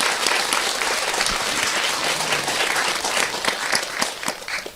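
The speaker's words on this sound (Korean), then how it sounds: "박수 한번 쳐요." Steady, dense clapping from an audience at a Buddhist New Year sermon, loud and continuous throughout with no voices over it.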